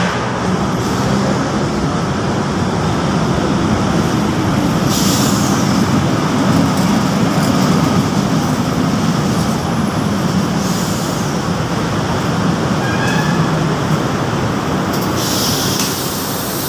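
LRT train heading toward Baclaran station, a loud continuous rumble of rail wagons with wheel and track noise throughout and no speech over it.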